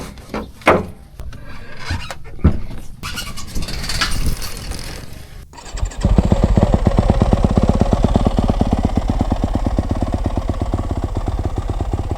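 A 2025 Yamaha YZ250F dirt bike out on a freeride trail. It starts with scattered rustling and handling noises, then the engine revs up loud and close and holds a fast, buzzing four-stroke drone to the end.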